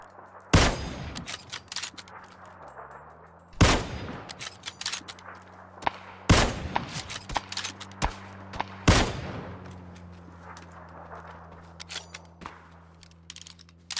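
Gunshots in the PUBG battle-royale shooter crack out in four loud, sharp bursts spaced a few seconds apart, with quieter distant pops, clinks and footsteps filling the gaps over a low steady game hum.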